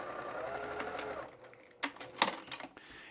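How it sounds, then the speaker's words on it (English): A sewing machine runs steadily through quilting fabric for about a second and a half, then falls quiet apart from a few short clicks and handling noises. "And I'm going to sew through this side."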